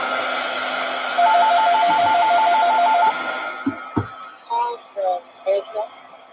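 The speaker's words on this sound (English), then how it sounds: "there goes my phone." A phone ringing indoors, repeating short electronic tones that go on for a couple of seconds, with a few soft knocks and brief beeps after it.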